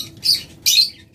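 Pet breeding birds such as lovebirds and budgerigars at a sale give two bright bursts of chirping and squawking, fairly close, with a short lull between them.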